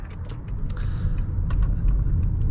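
Steady low road rumble and engine hum inside a 2020 Honda Accord Hybrid cruising in economy mode, with faint ticks and rattles above the continuous drone and no talking.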